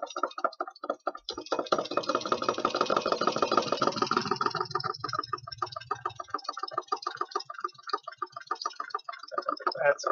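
A solenoid motor runs at a few hundred RPM, a quiet rapid mechanical clatter of ticking pulses, buzzier at first and then thinning into a sparser tapping rhythm.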